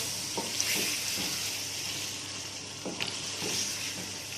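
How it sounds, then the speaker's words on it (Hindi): Ground browned-onion paste frying with masala in a pan for chicken achar gosht, a steady close sizzle broken by a few soft scraping stirs, with no talking. "प्याज ब्राउन की हुई थी उसको हमने ग्राइंड किया था वो ऐड करेंगे और इसको भी भून लेंगे"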